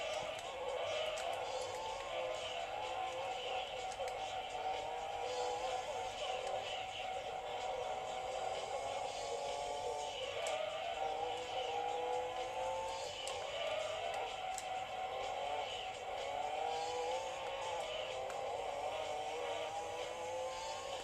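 Race car engine in the video game Gran Turismo 2, flat out on the straightaway of Special Stage Route 5: a steady, unbroken high engine whine with slowly shifting pitch, heard alone from start to finish.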